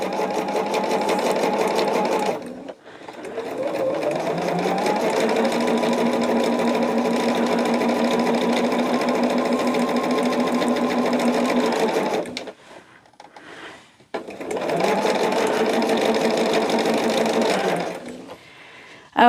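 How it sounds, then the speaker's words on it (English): Close, steady whir of a sewing machine joining quilt rows on a jelly roll quilt, running in long continuous stretches with brief stops between, and no talk. "now what we're doing is sewing our rows together"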